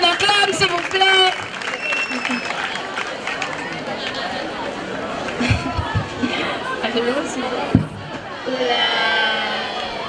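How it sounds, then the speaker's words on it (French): A crowd at a French-language community event cheers and calls out, with scattered clapping, under loud mixed voices and chatter; the noise stays dense and sustained, with one sharp clap-like burst near the end. "On acclame, s'il vous plaît."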